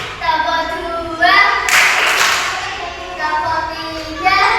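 Schoolchildren in a primary-school class clap their hands together in short counted bursts, the sharp claps loud and close, with a teacher's voice leading and talk between the rounds.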